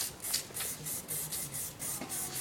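Aerosol spray paint can hissing in a steady series of repeated short bursts while a bumble bee design is filled in left to right, fairly close and alone without talk.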